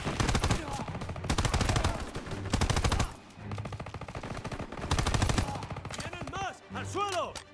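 Bursts of World War II rifle and machine-gun fire from Call of Duty: WW2 rattle in rapid volleys, loud and close, with brief lulls between the clusters and distant ricochet whines near the end.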